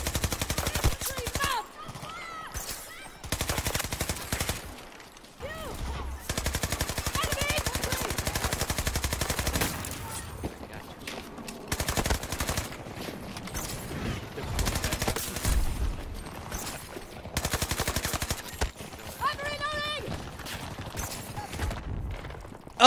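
Battlefield 2042 gunfire rattles in repeated automatic bursts and single shots, close and punchy, with pauses between volleys and voices talking at times over the firing.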